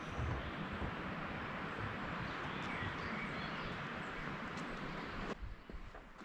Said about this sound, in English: there's always birds chirping in the background, the river running.